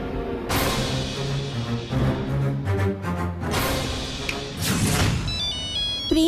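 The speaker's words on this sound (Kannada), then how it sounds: "ಪ್ರಿಯಾ, ನಿಮ್ಮಪ್ಪನ ಫೋನು." A telephone ringtone plays a melodic electronic tune from a handset at home, repeating its phrase steadily at moderate loudness, with no speech over it.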